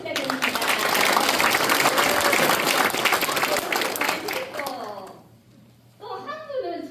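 Applause from a seated audience at a regional balanced-development committee event in Dalseong County, Daegu, welcoming two committee members; dense, steady clapping for about four seconds, then fading as a voice begins speaking.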